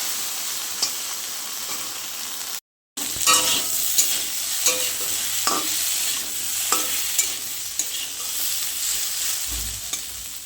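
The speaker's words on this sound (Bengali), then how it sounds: "আলুটা ভেজে নিচ্ছি" Potatoes fry in hot oil with a steady, loud sizzle, broken by frequent clicks and scrapes of a stirring utensil in the pan, and a brief dropout near the start.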